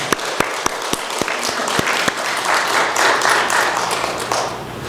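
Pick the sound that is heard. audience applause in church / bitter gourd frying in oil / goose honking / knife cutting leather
audience applause in church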